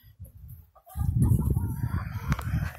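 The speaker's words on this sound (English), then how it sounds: "Chickens." Chickens cluck and squawk loudly and close by after a brief quieter moment, several birds calling over one another.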